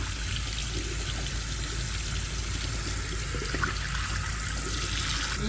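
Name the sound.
water running while rinsing hair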